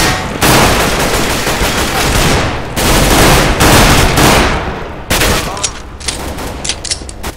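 Rapid, loud pistol fire in Counter-Strike: Global Offensive during an Arms Race match, dense bursts of close shots filling most of the span with brief pauses between volleys.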